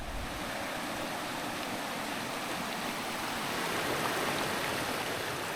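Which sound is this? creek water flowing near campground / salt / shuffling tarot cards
creek water flowing near campground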